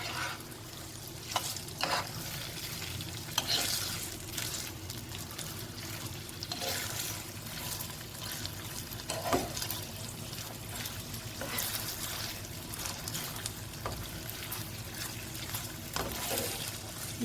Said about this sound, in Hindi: अब ये चिकन सारा वाइट हो गया, फ्राई हो रहा है